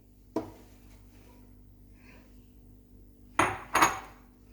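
Ginger and callaloo dropped into a blender jar for a green smoothie: one sharp knock early, then two louder clattering thuds close together near the end, in a quiet room.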